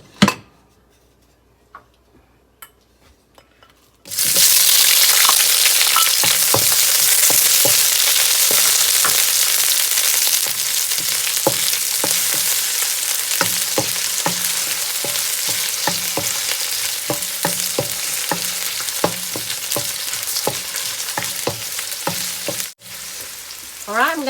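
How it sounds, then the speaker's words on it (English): Onions sautéing in hot olive oil in a wok, a loud steady sizzle that bursts in after a few quiet seconds, with stirring clicks and scrapes throughout, then cuts out briefly near the end. "I'm gonna add my onions on here."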